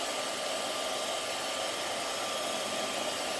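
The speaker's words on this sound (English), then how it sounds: "So I'm gonna go in here, use my dryer." A hair dryer blowing over watercolor paint on paper, a constant loud rushing hiss with a faint steady whine, unbroken from start to finish and close to the listener.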